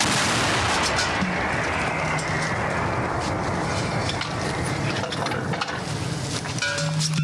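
Artillery guns of a Ukrainian brigade fire in a dense, continuous roar of booms and rumble, loud and close, with metallic clinks scattered through and no pauses.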